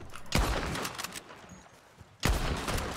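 Two loud, sharp gunshots ring out in Red Dead Redemption 2, about two seconds apart, each followed by a brief echoing tail.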